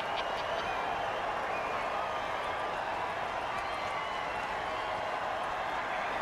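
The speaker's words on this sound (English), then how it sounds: "Oh, crowd's loving it." Crowd cheering in an American football video game, heard as a steady, loud stadium roar that holds without a break under light game noise.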